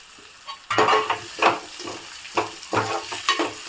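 Small-cut potato pieces frying in oil in a pan, a close sizzle broken by bursts of stirring scrapes and rattles every half second or so, no voices.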